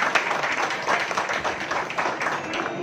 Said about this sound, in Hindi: मैं जिसका आप तालियां बजाकर स्वागत करिए।